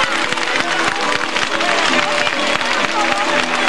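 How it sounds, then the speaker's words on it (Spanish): An audience applauds singers at an Aragonese folk festival, dense steady clapping from a crowd with some murmur, loud and continuous throughout. "Un fuerte aplauso para ellos."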